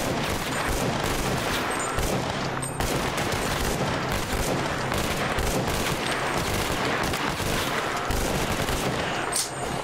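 Dense, continuous gunfire in the Stalker Clear Sky video game with the Last Fallout Overhaul mod at the Cordon military area, rapid automatic shots rattling nonstop and loud throughout with no talking.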